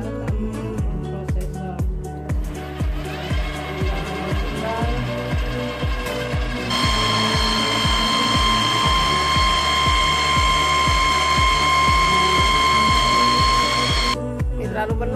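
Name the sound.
kitchen machine grating ingredients for traditional cake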